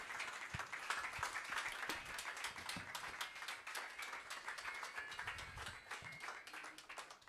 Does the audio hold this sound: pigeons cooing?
no